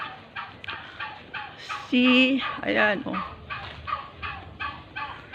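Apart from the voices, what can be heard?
turkey gobbling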